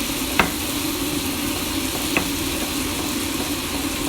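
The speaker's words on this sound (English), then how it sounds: "Then we're going to mix the meat." Meat frying in a pan with onion, rice and spices, a steady close sizzle with two faint scraping stir clicks.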